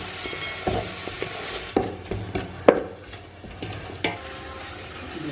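Dried red chili paste is stirred into frying Ambur biryani masala in a pan, a soft continuous sizzle broken by several sharp scraping knocks of the spoon at irregular intervals.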